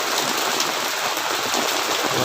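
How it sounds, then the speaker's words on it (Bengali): Heavy rain pours down in Paris, France, in a steady, dense hiss that stays loud and unbroken throughout, with no voices. "সারাদিন বৃষ্টি প্রচুর পরিমাণে বৃষ্টি"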